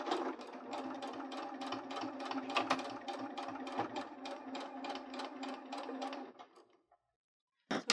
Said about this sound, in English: you're sewing over quite a bit of thickness of fabric